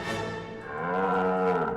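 A buffalo gives one long, loud, close moo that dips and then swells again, with no talk over it.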